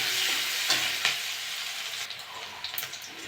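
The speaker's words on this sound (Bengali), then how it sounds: "পেঁয়াজটা একটু ভেজে নেবো।" Chopped onion frying in hot oil with cumin seeds in a pan for a taro-root and tilapia curry: a steady close sizzle, with a few sharp scraping stirs near the start, and no voices.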